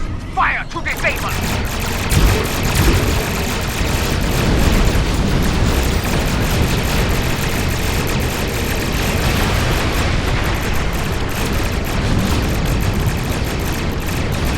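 Starship weapons fire in Star Trek Online: a continuous heavy barrage of booming blasts and rumbling explosions over a thick battle din, loud and unbroken, with voices heard amid the noise.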